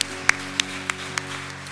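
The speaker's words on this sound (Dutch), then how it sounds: "Applaus voor Kira allemaal." A few sharp, evenly spaced hand claps from an audience at a Leiden volunteer awards ceremony, sounding sparse and moderately close over a steady humming tone.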